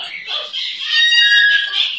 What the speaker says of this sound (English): Hey, you're a very good bird.